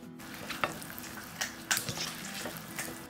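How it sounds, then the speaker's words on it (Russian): Salad being tossed with dressing, a soft wet rustle and slapping of vegetables mixed in a bowl, with a couple of sharper knocks over low steady background noise. "Добавляем заправку в салат и перемешиваем."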